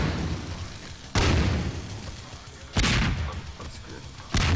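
Power bomb explosions in a video game: three heavy booming blasts spaced about a second and a half apart, each loud and broad and decaying into a rumbling tail.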